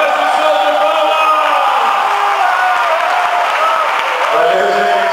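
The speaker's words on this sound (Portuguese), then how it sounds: "peço o som de palmas!" Applause from a lecture audience at an anime convention warm-up event, dense and steady, mixed with cheers and whoops throughout.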